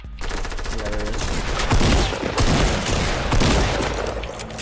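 Rapid automatic gunfire bursts from the video game Fortnite during a battle royale duo match, loud and sustained with booming shots, while players chat over it.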